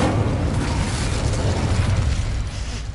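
Incendio fire spell cast in Hogwarts Legacy, a loud, dense roaring whoosh of flame that holds steady for three seconds before easing slightly at the end.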